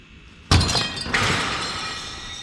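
Glass shatters loudly and close in two quick bursts, a sharp crash followed by a second smash and lingering tinkling debris that fades slowly, with no talk.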